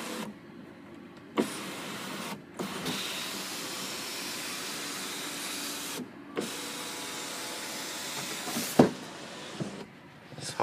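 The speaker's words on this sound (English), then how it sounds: "It's the moonroof." The power moonroof motor of a 2010 Infiniti FX35 hums steadily inside the cabin, running in long stretches broken by short pauses and small clicks, with a sharper clunk near the end as it stops.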